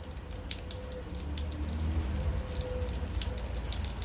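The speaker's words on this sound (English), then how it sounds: "you can see the water is starting, and it will stay on for 1 minute" Water running through a Parkside programmable garden watering timer, a steady broadband rush and hiss with dripping and splashing, holding constant and fairly loud across the whole stretch with no voices.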